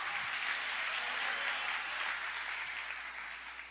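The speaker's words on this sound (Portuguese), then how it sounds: "Aplauda, dê um brado de louvor se você crê." Church congregation bursts into sustained applause, a thick, even roar of clapping with possible cheering mixed in, steady for most of the stretch and easing off slightly at the end.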